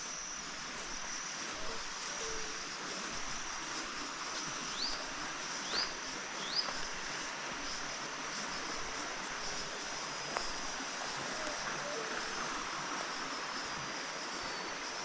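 A creek swollen by recent rain flows past with a steady, soft rushing wash, fairly distant and even, with faint birdsong above it.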